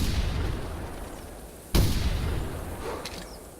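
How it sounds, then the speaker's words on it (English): A single sharp shotgun blast rings out in The Hunter Classic video game as geese are hit, a loud sudden crack over a steady outdoor ambience, followed by a faint distant echo. "I shot 1 bullet and I got 2 geese."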